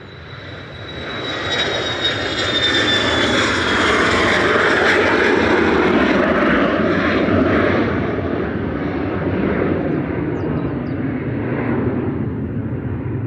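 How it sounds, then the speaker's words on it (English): An Embraer Praetor 600 business jet departs Manchester Airport with a loud, sustained engine roar that builds and holds as it rolls and climbs, then begins to fade slightly toward the end. "A little centerline Embraer Praetor 600 GLZRI departing to London Luton."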